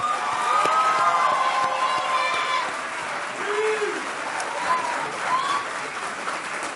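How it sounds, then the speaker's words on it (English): A large graduation audience at the East Hartford Synergy commencement gives the class of 2019 a sustained round of applause, dense and steady clapping with some cheering and crowd noise mixed in. "let's give them a big round of applause"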